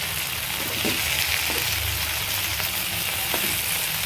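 Food frying in oil in a pan, a steady broadband sizzle with a few soft clatters and a low rumble underneath, close and continuous with no talk.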